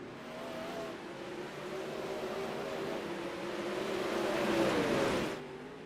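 Sprint cars racing in iRacing's Outlaw 360 Sprint Series at Cedar Lake, engines droning steadily and swelling louder toward the end as the pack passes, with no talk over them.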